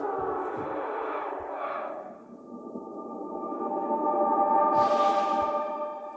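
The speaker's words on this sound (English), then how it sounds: "And here's like a tape echo effect," A synth pad from the Baltic Shimmers HALion library is run through a tape echo effect, giving sustained layered tones that dip, then swell back with breathy, repeating echoes, loud and alone without talk.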